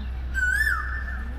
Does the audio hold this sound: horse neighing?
no